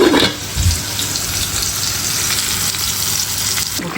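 Spices, onion, turmeric and chili powder fry in hot oil with a continuous close crackling sizzle, with occasional stirring scrapes.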